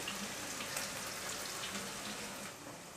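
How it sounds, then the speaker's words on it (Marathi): Chopped onion, green chili and a little coriander frying in hot oil for a Koli-style masala, giving a steady, even crackling hiss that fills the whole stretch and eases slightly toward the end. "तेल तापल्याच्या नंतर यामध्ये ना आपण कांदा घालूया मिरची आणि थोडीशी कोथिंबीर"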